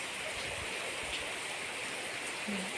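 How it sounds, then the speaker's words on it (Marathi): Steady, dense rush of rain pouring down, a constant even hiss with no breaks and no talk. "पाऊस भरपूर चालू आहे"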